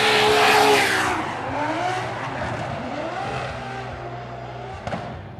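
Drift car with a 2JZ engine at a Long Beach drift event, a loud sustained rev and engine roar with tire noise and crowd ambience, heard from a distance without talk.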